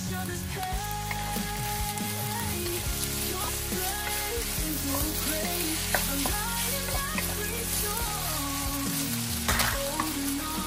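Yakisoba noodles and leftover meat stir-fry in a hot pan with oyster sauce, giving a steady, loud sizzle with scattered clinks and stirring scrapes close by.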